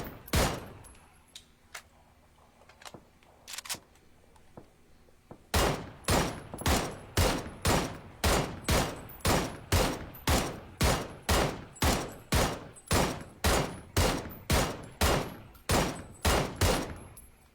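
Gunfire aimed at bringing a target down: one early shot and a few faint clicks, then a long, steady run of loud, evenly spaced shots, about two per second.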